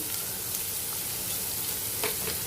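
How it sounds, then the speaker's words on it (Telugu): Onion frying in a pan with salt for a cabbage and chana curry, a steady close sizzle with faint stirring near the end. "ఆనియన్ కొంచెం ఫ్రై చేస్తాను నేను"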